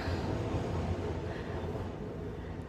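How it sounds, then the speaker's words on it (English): A train rolls past nearby with a steady, dense low rumble and rattle of wheels on rail that holds at constant loudness throughout, with no voices over it. "As always, I apologize for the train."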